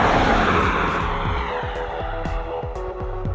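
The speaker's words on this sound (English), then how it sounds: "There's a car driving by" A car drives past outdoors, a broad, steady wash of tire and engine noise that stays fairly loud throughout, with brief squeal-like tonal streaks sliding downward.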